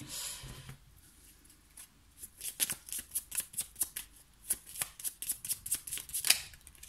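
Oracle cards are shuffled by hand in a quiet room, a faint riffle at first, then a run of crisp, close slaps and flicks in an uneven rhythm, with no voices.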